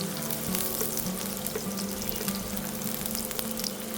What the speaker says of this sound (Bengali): আর তারপরে তেলটা একটু গরম হয়ে উঠলেই আমি হাফ কাপ পেঁয়াজ দিয়ে দেব।